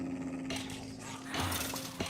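Low growling from dogs in the Minecraft video game, a rough rumble that rises and falls over about two seconds under steady game background sound, with no speech.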